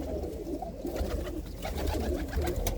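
Several pigeons coo continuously in a home loft housing two pairs of birds, a dense, layered warble of overlapping low calls that stays close and steady throughout.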